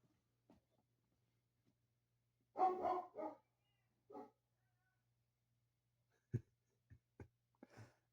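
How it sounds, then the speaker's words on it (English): A pet dog gives a few short, sharp barks and yips indoors, in scattered bursts separated by quiet, fairly faint and without talking. "That dog is so spoiled."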